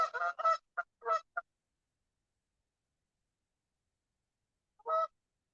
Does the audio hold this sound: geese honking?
yes